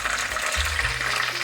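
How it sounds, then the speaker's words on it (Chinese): Napa cabbage and potato slices pan-frying in oil, a steady crackling sizzle with sharp spattering pops from the watery cabbage, close and alone without talk. "大白菜因为有水分，煎到最后的时候会听到油喷的声音比较大声"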